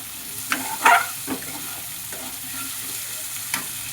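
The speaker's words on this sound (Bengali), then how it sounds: "যতক্ষণ পেঁয়াজটা ভালো করে লাল লাল করে ভাজা হচ্ছে" Chopped onions fry in hot oil toward browning, a faint steady sizzle with a few louder stirring scrapes near the start and one more later.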